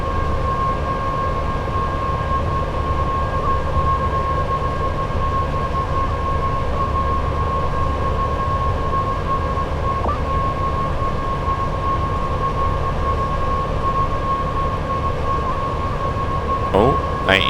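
A class 87 locomotive hauls a steel freight train of coke wagons in Train Sim World 6, a steady, loud rumble and drone of the rails with a sustained tonal hum throughout and a brief clatter near the end.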